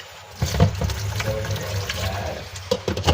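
Water poured into a cooking pot in a home kitchen, a close, steady splashing and gurgling stream that starts abruptly and runs on, rising in pitch as the pot fills.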